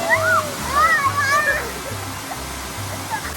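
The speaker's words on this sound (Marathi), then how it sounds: "बघा आता दुसरा वॉटरफॉल कसा एक नंबर आहे" Waterfall at Karmbeli near Panvel in Raigad, a steady rushing wash of falling water under close talking voices, with a low rhythmic hum pulsing in the background.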